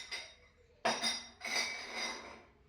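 A glass juice glass with a lid and a glass straw clinks up close, with a few sharp glassy taps and rattles separated by brief pauses and no talking.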